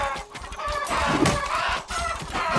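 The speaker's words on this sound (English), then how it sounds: "Too many chickens!" Dense, continuous clucking from a crowd of chickens in the game Undead Horde, loud and overlapping throughout with no break.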